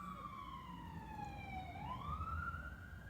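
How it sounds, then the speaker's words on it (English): A distant emergency siren wails in slow rising and falling sweeps, steady and clear over a low outdoor rumble in a town within walking distance of stores. "don't know if you can hear the siren"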